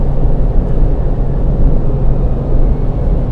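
A Suzuki Jimny with old gear ratios running at highway speed around 4,000 RPM, a loud, steady engine drone mixed with road and wind rumble, sustained without break.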